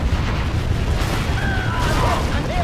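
Rocket bomb explosions rumble in Command and Conquer Generals Zero Hour, a dense continuous low boom and roar of battle under game unit voice lines.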